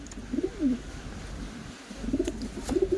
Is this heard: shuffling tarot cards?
no